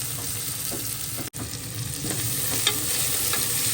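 Onions frying in hot oil for a gravy, a dense continuous sizzle with occasional stirring scrapes and small pops, close and steady with one brief dropout.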